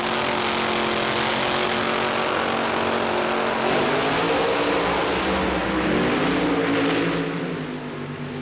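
Mopar drag racing cars roaring down the strip at the Brainerd, Minnesota nationals, a loud sustained engine howl with shifting pitch that swells midway and fades slightly at the end, no voices.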